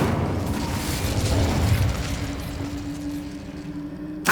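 An Incendio fire spell cast in Hogwarts Legacy gives a loud, steady roaring whoosh of flame with a low rumble, ending in a sharp burst.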